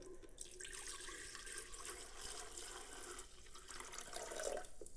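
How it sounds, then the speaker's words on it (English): Mango juice pours for a fruit smoothie in a faint, steady liquid stream that runs continuously, with a slightly brighter splash near the end and no speech. "Let's add in this mango juice."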